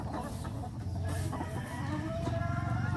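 Chickens cluck steadily throughout, a dense, overlapping chorus of many birds close by with no talking.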